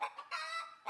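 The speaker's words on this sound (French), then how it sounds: "les poules se mirent à glousser, à caqueter, à battre des ailes" Hens cluck in a henhouse, a few quiet, close bursts of clucking spread over about a second.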